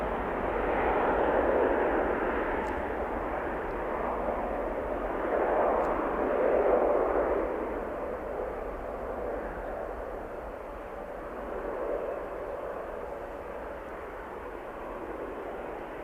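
A TUI airliner takes off from Manchester Airport with a sustained, heavy engine roar that surges and eases in broad waves before slowly fading.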